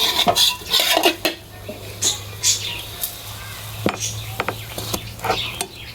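Minced pork basil stir-fry being scraped from a pan onto a plate, repeated metal spatula clinks and scrapes in irregular bursts over a low steady stove hum.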